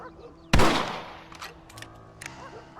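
Rifle fire in the Red Dead Redemption 2 video game: one sharp, loud gunshot that rings out and decays over about half a second, followed by quieter clicks and handling sounds.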